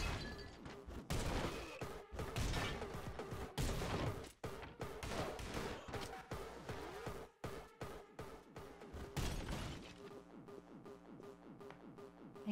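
Rapid gunfire in the indie shooter game Anger Foot, loud dense volleys of shots with sharp repeated cracks, some clustered in fast bursts, continuing over about twelve seconds without speech.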